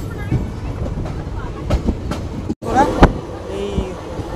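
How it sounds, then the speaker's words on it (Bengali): The Haldibari-Kolkata Tri-weekly Intercity Express pulling out of Kishanganj station, heard from inside as rolling rumble with irregular clanks and rail clicks, with a voice speaking over it. "আমাদের ট্রেন নির্ধারিত সময়ের থেকে 6 মিনিট লেটে কিষানগঞ্জ স্টেশন থেকে ছেড়ে দিল।"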